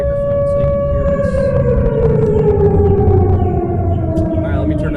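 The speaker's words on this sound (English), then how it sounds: "you can hear right now there's sirens going off, basically telling us, hey, there's a nuke about to come down" A loud, sustained air raid siren warning of a nuclear attack wails with slowly falling pitch, steady and continuous throughout, against a noisy background rumble.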